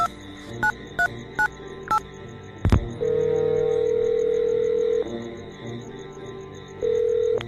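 Several short electronic beeps like keypad tones, a click, then a steady phone ringback tone repeating with pauses.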